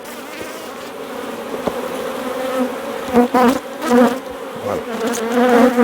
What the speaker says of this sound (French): On va pas la resserrer parce qu'elle est blindée d'abeilles